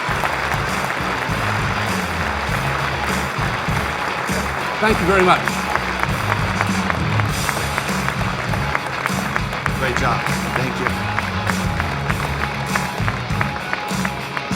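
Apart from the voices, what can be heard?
audience applause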